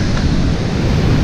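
Ocean surf churns steadily on a La Union beach, a loud continuous broadband roar with low rumbling wash and no clear gaps, mixed with some wind buffeting.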